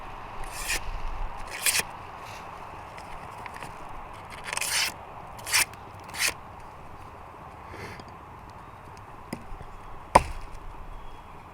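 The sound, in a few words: Holtzman Gorilla Survival D2 knife cutting paper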